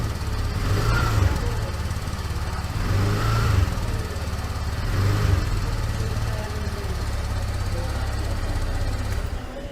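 TVS Jupiter 125 scooter with an air-cooled engine runs at a steady idle, blipped three times at regular intervals, close and moderately loud with a plain, even note.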